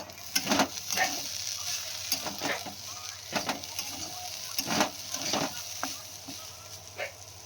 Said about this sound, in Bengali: আর এখানে দেখো আলু ভাজাটা হচ্ছে